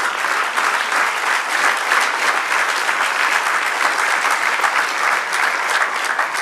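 Church congregation applauding during a sermon, a steady, dense wash of many hands clapping at even loudness for several seconds with no talk over it.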